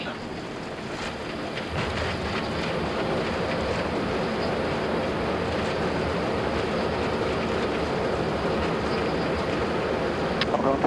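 Thrust reversers on an Airbus A330-300 roaring during the landing roll, a steady loud broadband rush that swells after the first two seconds and holds to the end, heard from inside the cockpit.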